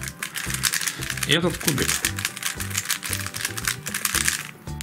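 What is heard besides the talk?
YJ YuLong v2 M 3x3 speed cube turning clicks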